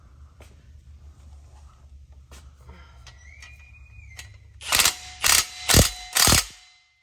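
Four loud ratchet bursts near the end tighten 15mm exhaust clamp bolts on a Ford Bronco, each a short buzzing run of clicks in a steady rhythm, following quieter clinks of handling.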